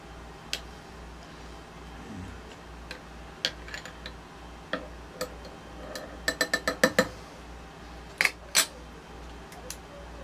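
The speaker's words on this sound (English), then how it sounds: "Stir it up real good." A spoon clinks against a glass or pot while stirring light dry malt extract into a yeast starter, scattered sharp taps that speed into a quick run of rattles, over a faint rhythmic background hum.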